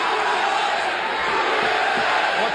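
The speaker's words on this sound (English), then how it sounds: "the crowd chanting USA again for Dan Severn against the Brazilian Royce Gracie" An arena crowd in the UFC 4 fighting game roars and chants in a dense, steady wash of many voices, loud and continuous, with a commentator's voice mixed in.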